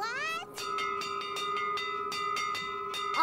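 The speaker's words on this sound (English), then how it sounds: "I hear a ship's bell!" A bell rings in a quick, repeated series of bright clanging strikes, fairly loud and close, with a voice briefly heard at the start.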